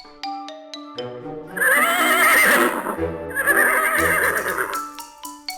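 A loud, close horse whinny rises and falls twice, preceded by bright chiming tones, with no talking.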